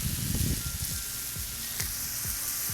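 Wagyu burger patties sizzle on a Blackstone griddle, a soft steady hiss with scattered crackles and a few clicks of handling, fairly quiet and without talk.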